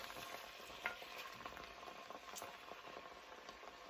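Stirring a cauliflower, ginger and turmeric stew in a pot with coconut oil, steady scraping and sizzling from frying underneath, a soft continuous kitchen sound with one small knock near the start.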